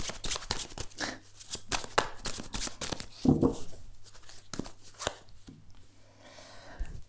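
Tarot cards being shuffled to draw new ones, heard as a close run of crisp riffles, slaps and papery taps in uneven bursts, with no talking.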